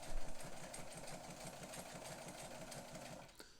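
A Necchi Supernova sewing machine running a short-length zigzag stitch, giving a steady rapid mechanical chatter of needle strokes for about three seconds before stopping abruptly, with no talking.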